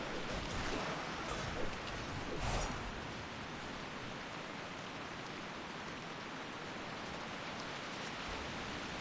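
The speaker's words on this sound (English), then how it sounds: "You hear how loud that rain is?" Steady, loud rain falls across a World of Warcraft game world, a constant hissing wash with no voices over it.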